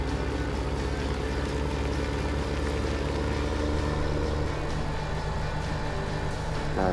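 Tractor engine idling in Farming Simulator 17, a steady low mechanical drone that holds evenly throughout with no speech.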